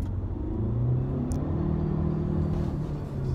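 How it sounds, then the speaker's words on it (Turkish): A Jetta's engine held at full throttle on a rough asphalt university campus road, a steady loud low rumble throughout with no talk. "dip gaz yaptı."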